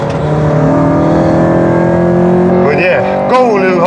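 A Honda car with a K20 VTEC engine strains through the gears at the Nordschleife. Its harmonic engine note holds steady and loud, then rises and dips twice near the end, with a voice talking over it.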